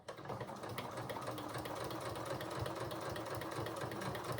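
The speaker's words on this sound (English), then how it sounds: "I'm going to stitch that all the way around" A sewing machine understitches bias binding around a bodice neckline, a steady close mechanical chatter running continuously for several seconds without pause or speech.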